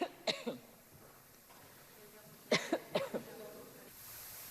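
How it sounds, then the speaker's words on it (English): A coughing fit during a debate in France's parliament on emergency coronavirus measures: two bursts of harsh, close coughs, a single cough and then a cluster of three or four, over a quiet room hum. "A coughing fit left a lasting impression as France's parliament debated emergency coronavirus measures."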